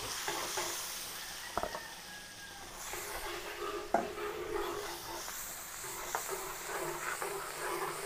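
Garlic frying in melted margarine in a pan, a soft steady sizzle close by, broken by a few utensil scrapes and clicks as it is stirred.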